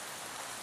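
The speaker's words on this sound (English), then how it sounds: "It is raining." Rain falls outdoors as a steady, soft, broadband patter and hiss that lasts the whole brief moment without any voice.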